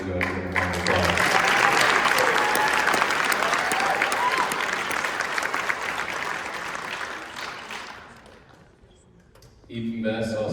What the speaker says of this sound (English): shout out to Payne at Hastings College, if we can go ahead and give him a round of applause.